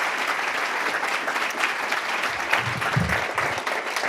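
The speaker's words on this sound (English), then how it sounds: "One more round of applause for John" An audience at a River Rally 2024 conference session gives a sustained round of applause, steady and fairly loud, with a few low thumps and murmurs mixed in toward the end.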